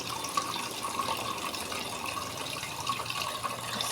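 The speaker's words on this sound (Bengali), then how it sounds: "চালগুলো ধুয়ে নিই।" Rice grains being rinsed in water, a steady splashing wash at close range, continuous and fairly soft throughout, with no one talking.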